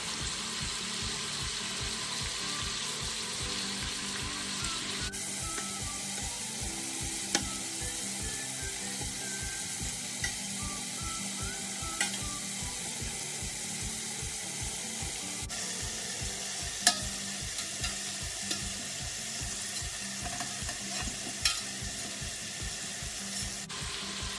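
Meatballs sizzle and fry steadily in a pan of hot grease, a dense continuous crackle with a few brief clinks of turning, close and even throughout.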